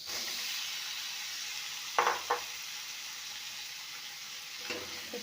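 Marinated young jackfruit sizzles in mutton fat, a constant hiss broken by two quick metallic clatters near the middle and another toward the end.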